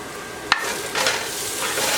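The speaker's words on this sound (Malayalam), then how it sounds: "എന്നിട്ട് ഇതെല്ലാം കൂടെ ചേർത്ത് ഒന്ന് ഇളക്കണം." Chilli powder and meat masala are stirred in a pan, a sharp utensil tap followed by soft scraping over a gentle sizzle, close and without talking.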